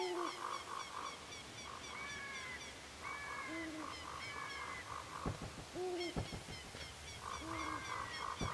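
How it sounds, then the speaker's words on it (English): Ambient forest birdsong in The Legend of Zelda: Ocarina of Time, repeated hooting and warbling calls looping over a steady game background, with a few soft thuds in between. "Birds. I hear them so clearly."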